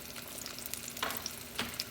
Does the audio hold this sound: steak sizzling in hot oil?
yes